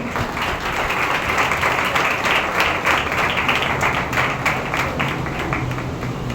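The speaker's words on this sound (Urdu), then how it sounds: "آپ کی زوردار تالیاں" Loud applause fills a church healing meeting as the congregation welcomes the pastor, dense steady clapping from many hands continuing throughout.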